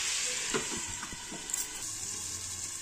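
Chicken and potato curry sautéing in a pan with a steady sizzle and a few stirring clinks and scrapes, close and alone.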